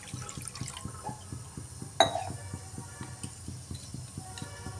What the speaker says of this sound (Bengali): পরিমাণ মতো জল দিয়ে দিচ্ছি।